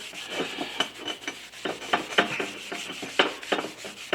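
A rag wipes a piece of stainless steel down with brake cleaner in a workshop, making quiet repeated rubbing and scrubbing strokes in an uneven back-and-forth rhythm with no voices.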